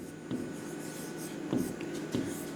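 Pen or pencil writing by hand on paper during a maths lesson on land units, with steady scratchy strokes and a few louder taps, close and alone without speech.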